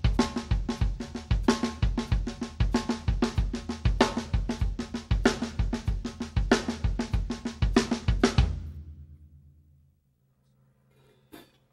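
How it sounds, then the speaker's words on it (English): Drum kit groove with the bass drum and the left hand alternating, the backbeat snare hits accented, played steadily and loudly up close before stopping and ringing out, followed by a faint knock. "Now, the left hand plays opposite the bass drum."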